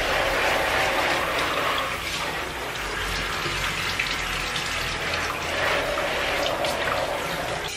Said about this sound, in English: then I'm gonna spray them off with the water hose just to get the excess dye off of them